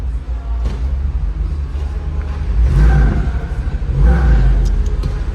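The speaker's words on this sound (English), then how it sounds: "Nice wheel spin." A Jeep with a naturally aspirated 470-horsepower engine, 35-inch tires, sway bar disconnected and axles unlocked rumbles at an auto show ride, its engine swelling loud and close twice as the wheels spin.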